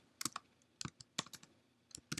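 Keys on a computer keyboard are tapped in short irregular bursts of sharp clicks, close and clear in a quiet room.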